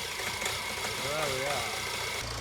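A van's engine runs at a steady idle after being started by bridging the starter solenoid contacts, a close continuous rumble with a faint whine, as a person talks nearby.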